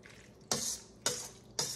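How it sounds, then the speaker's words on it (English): A large cooking spoon stirs food in a pot of green bean casserole, scraping the metal in three sharp, bright strokes about half a second apart, close and fairly loud. "And I'm going to give this a stir in this pot."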